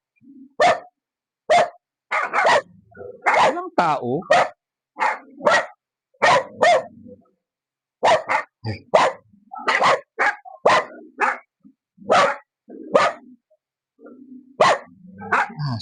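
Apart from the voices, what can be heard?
dog barking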